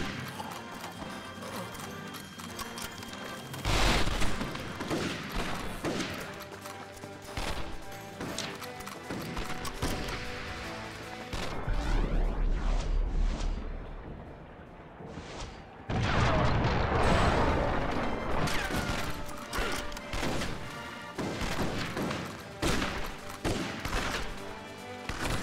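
Gunfire in the Xbox game Red Dead Revolver rings out in bursts of shots and crashes, set against a busy, dense game soundtrack with hoofbeat-like clatter, loud throughout.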